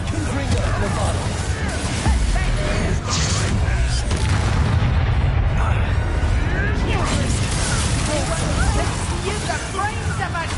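Blasting spells from a Harry Potter video game go off as loud booming explosions with crashing debris, in a continuous barrage of bursts and rumbling impacts.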